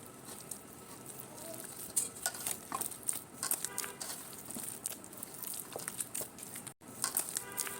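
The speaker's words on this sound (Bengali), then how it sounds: "এখন বড়াটা মেখে নেব, তালের বড়া।" Palm fritter batter of semolina, flour, sugar, banana and palm pulp is mixed by hand in a bowl, giving soft wet squelches, scrapes and occasional clinks at close range, irregular and fairly quiet.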